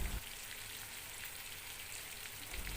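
Fish pieces fry in oil in a pan for a curry, giving a steady, soft crackling sizzle throughout with no voices.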